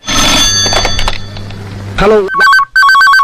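A telephone rings loudly in a Tamil television talk show segment, an electronic warbling ringtone in repeated bursts after a stretch of people talking, with a voice answering the call.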